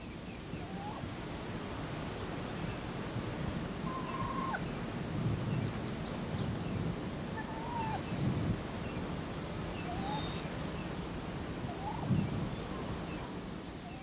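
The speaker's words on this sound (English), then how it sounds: "All the clucks and purrs and you know, stuff that we all know that the hens do" Wild turkey hens clucking and purring close by outdoors, short soft calls scattered over a steady background hiss, with a few brief low thumps.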